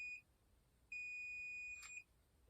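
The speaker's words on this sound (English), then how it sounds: "Release the button after it starts beeping" An automated wireless curling iron beeps: a short high tone, then a longer sustained beep of about a second, faint and close in a quiet room.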